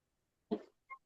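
One short, quiet cough, followed after a brief pause by a faint higher click.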